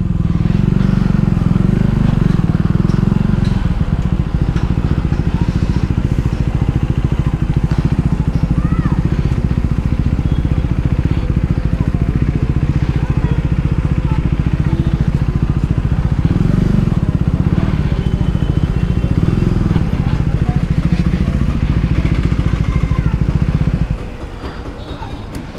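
An Apollo Alpha H1 motorcycle engine runs nearby with a loud, steady droning rumble and slight revving swells for over twenty seconds before cutting down at the end.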